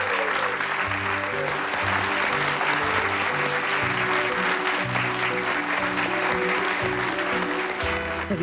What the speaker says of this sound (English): Can I have a really huge round of applause, please